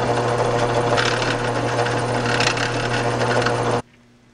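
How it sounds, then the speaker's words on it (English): A power drill bores through a clamped plate and aluminum sheet while making a table saw auxiliary fence, a loud steady high-pitched whine with a constant motor hum that cuts off abruptly near the end. "Now I can drill through the plate and the aluminum with them clamped in position"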